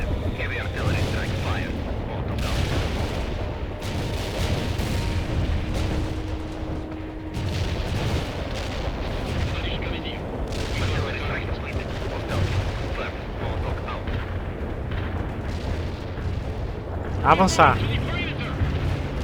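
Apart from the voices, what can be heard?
artillery fire in the video game World in Conflict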